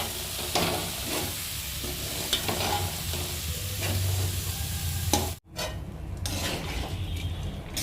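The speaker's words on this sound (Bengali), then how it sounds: "দেখো ভালোভাবে চালটা মশলার সাথে ভাজা ভাজা হয়ে গেছে।" Rice and lentils with spices frying in a pan for khichuri, stirred with repeated scraping strokes over a loud continuous sizzle, briefly cut off near the end before the frying hiss resumes, close up with no speech.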